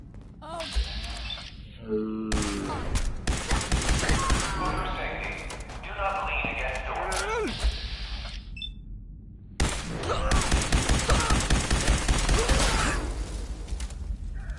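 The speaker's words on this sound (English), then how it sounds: "It appears someone is shooting." Gunfire in a video game crackles in dense rapid bursts mixed with thuds and clatter, broken by short pauses, while people talk over the shooting.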